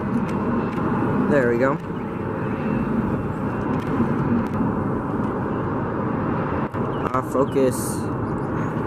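A Delta jet airplane taking off at Atlanta's airport gives a broad steady engine roar at a distance, continuous and fairly loud throughout, while people talk briefly over it.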